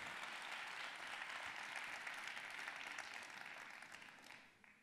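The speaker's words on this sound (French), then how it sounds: "Je pense qu'on peut lui redonner un tonnerre d'applaudissements." A thundering round of audience applause fills a hall at a science communication competition final in Nantes, a dense, even wash of many clapping hands that fades toward the end, with no talk over it.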